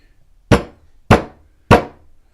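A hammer strikes oobleck, a non-Newtonian cornstarch fluid, three times at a steady pace, each blow a loud, close, sharp smack with a quick decay.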